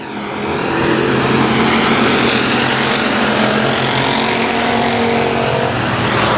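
Factory stock race cars roar around the oval at Boothill Speedway, a loud, continuous engine drone with rising and falling pitch as several cars run close together, steady throughout with no talk.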